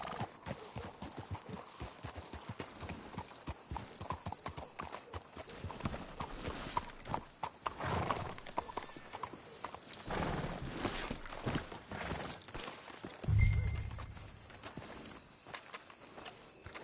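Horses walk at an unhurried pace in Red Dead Redemption 2, hooves clip-clopping in an irregular rhythm, with a brief low thump near the end.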